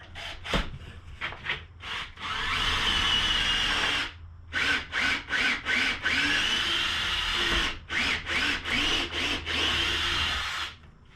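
A power drill bores a hole through a wooden cornhole board jig, sounding as repeated loud bursts of grinding, rubbing whine with short pauses between them, close up and without speech.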